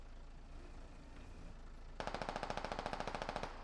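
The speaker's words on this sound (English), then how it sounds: "Good MG fire." Machine gun fire in a video game: after a low rumbling lull comes a sustained, rapid burst of evenly spaced shots, loud and close, lasting about a second and a half.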